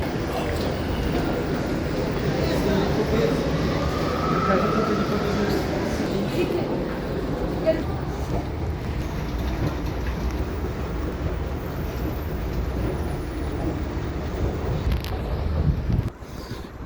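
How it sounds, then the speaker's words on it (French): Continuous low rumble and rushing hum of a moving metro train, steady throughout with a brief drop near the end. "J'ai pris le métro."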